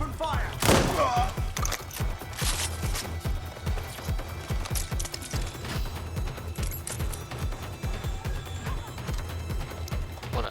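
Gunfire in the video game Watch Dogs Legion: a steady stream of repeated sharp shots and thuds, a dense fusillade running throughout at moderate loudness with background game sound.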